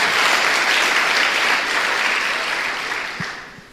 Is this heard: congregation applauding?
yes